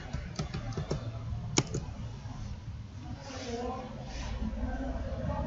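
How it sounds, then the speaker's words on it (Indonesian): Keystrokes on a computer keyboard as a password is typed at a Linux login, a few sharp clicks near the start, then faint background noise and low talk. "Ketikkan passwordnya."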